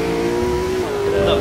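A race car engine at the 2017 Rolex 24 Hours of Daytona holds a loud, steady, high-pitched drone that shifts pitch slightly, with talk over it throughout.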